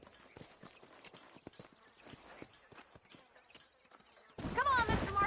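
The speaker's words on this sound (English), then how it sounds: "These are fine horses." Horse hooves clip-clop at a walking pace in the western video game Red Dead Redemption, outside the town of Armadillo. The soft, uneven hoofbeats end in a sudden loud burst of sound.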